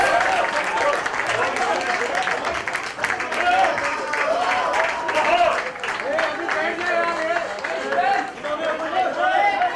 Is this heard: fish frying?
no